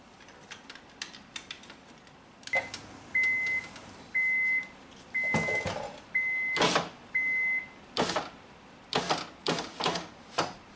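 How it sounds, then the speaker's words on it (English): A 2001-2005 Honda Civic coupe power window is run down in several short bursts: a steady whirring motor tone starts and stops about five times, mixed with sharp clicks and knocks from the door. "We'll have to drop the window down."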